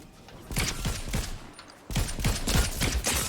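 Rapid bursts of gunfire from a Fortnite match ring out loudly in two volleys separated by a short lull, with faint game noise between.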